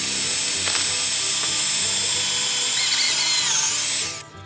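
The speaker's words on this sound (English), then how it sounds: "So Rainy's drilling holes for these wood post hinges" A power drill bores holes for wooden post hinges, a steady high mechanical whine with ratcheting texture running continuously, close and loud, cutting off abruptly at the end.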